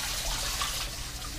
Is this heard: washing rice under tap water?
yes